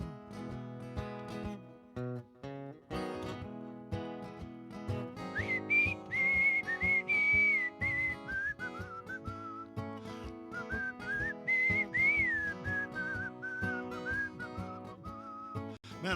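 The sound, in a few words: man whistling a tune on stage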